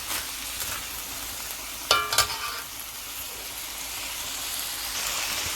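A pigeon peas and rice mixture fries in a pot with a steady soft sizzle throughout, and two brief sharp clatters of utensil against the pot sound near the middle.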